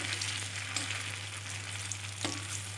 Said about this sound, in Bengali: একদম আলতো হাতে নাড়াচাড়া করে আমি লিচিগুলো ভেজে নিচ্ছি